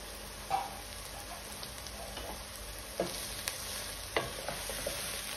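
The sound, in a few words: stir-frying vegetables and shredded carrots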